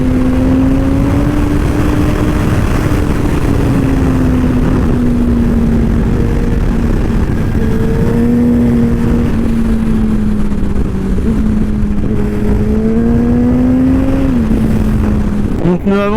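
A 2007 Yamaha R1 motorcycle being ridden to warm up its tyres, engine droning steadily and loud throughout with pitch rising and dipping gently as it accelerates, wind noise behind, no talk heard.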